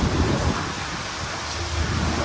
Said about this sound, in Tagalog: Tingnan nyo, biglang bumagsak ang ulan.